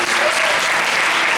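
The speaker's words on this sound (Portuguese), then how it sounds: "Dê um aplauso a esse Deus." A church congregation bursts into loud, close applause during a Portuguese-language worship service, a dense wash of clapping that stays steady through the short moment.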